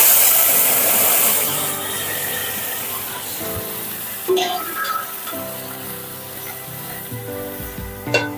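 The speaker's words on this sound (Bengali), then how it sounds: "নাড়িয়ে চাড়িয়ে এবার ডালটা দিয়ে দেবো" Lentil dal, in a pan already holding sizzling dried chilies, poured in and spluttering loudly at first, then settling into a steady, quieter sizzle with some stirring and clinks of a utensil.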